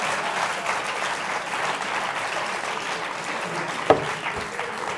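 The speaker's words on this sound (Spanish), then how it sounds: "¡Aplausos también!" An audience breaks into steady, sustained applause, a dense even clatter of many hands filling the whole stretch, with one sharp knock standing out near the end.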